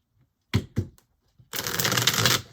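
A deck of cards is riffled twice in quick snaps, then shuffled in a longer rapid flutter of cards, close and crisp.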